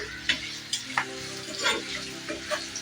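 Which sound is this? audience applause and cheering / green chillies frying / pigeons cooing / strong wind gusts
green chillies frying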